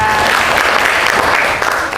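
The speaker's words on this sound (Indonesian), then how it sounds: "Tepuk tangan untuk Yara dan Aziza." Students applaud in a classroom, a steady loud wash of clapping from many hands that holds for about two seconds, close by and without talk over it.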